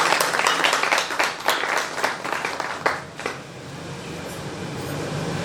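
An audience at a café-théâtre bursts into loud, dense applause for a performer, clapping strongly for about three seconds before it thins and fades into room noise.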